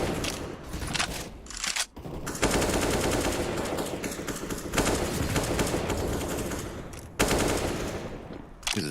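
Rapid automatic gunfire from a Counter-Strike match, dense bursts of shots rattling almost continuously with brief gaps, loud and close, unaccompanied by talk.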